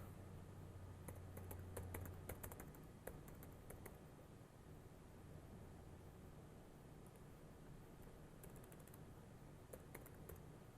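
Rapid clicking of a computer keyboard as someone types an answer into a classroom quiz app, with bursts of keystrokes separated by short pauses over a steady faint background hiss; nobody talks.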